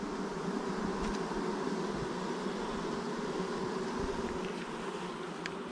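A honeybee colony hums steadily and close by as the bees are moved from a swarm trap into a ten-frame hive, an even, dense buzzing that holds throughout with no talk over it.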